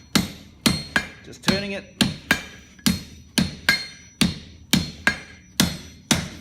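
Heavy hammer blows ring out on hot steel at the anvil while a blacksmith jumps up a bar, about a dozen sharp, evenly spaced strikes with bright metallic ring, close and loud, with a brief word spoken between blows.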